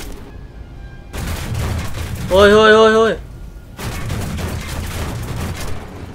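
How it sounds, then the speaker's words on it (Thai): Bombs and gunfire in the War Thunder combat video game rumble in two sustained, dense bursts of blasts and shots. A man's startled exclamations come between them. "มีคนทิ้งระเบิด"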